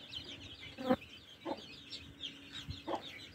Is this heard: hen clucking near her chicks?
yes